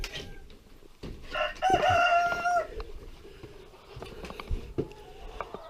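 Rooster crowing loudly and close in a poultry enclosure alongside chicks, with a long cock-a-doodle-doo in the middle and softer clucks and peeps before and after, no talking.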